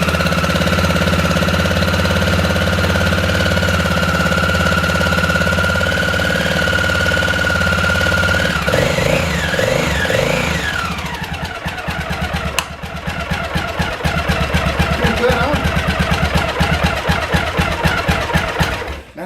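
A Honda XL600R motorcycle engine runs loud and close: a steady drone first, then the pitch rises and falls a few times before it settles into a lumpy, thumping single-cylinder idle. No voices are heard.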